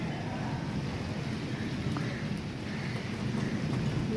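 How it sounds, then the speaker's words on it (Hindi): Heavy rain pours steadily, soaking a wall outdoors, with a low rumble of thunder rolling underneath the dense, constant hiss; no voices. "शदीद तरीन बारिश हो रही है।"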